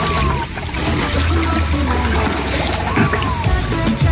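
Heavy rain near a river at Ilog Mariposa in Tayabas, a loud, dense, continuous watery roar and splatter close to the recorder with no pauses.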